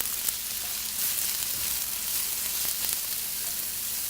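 Finely minced ginger sautés with diced brown onion over medium-high heat for a Thai red chicken curry, giving a steady, even hiss of frying that runs unbroken and fairly close.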